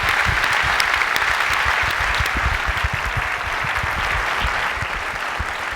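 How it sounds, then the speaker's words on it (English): Applause at the Macworld 2008 keynote as the Intel CEO is invited on stage: a large hall audience clapping in a dense, continuous roar that stays steady throughout. "I'd like to give him a round of applause."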